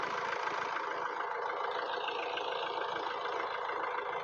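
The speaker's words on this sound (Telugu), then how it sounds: "ఇంజన్ కొంచెం సైలెంట్ ఉంది" A 2016 Honda Amaze diesel engine idling, a steady, even mechanical hum with faint knocking texture that holds unchanged throughout, heard close with no talk.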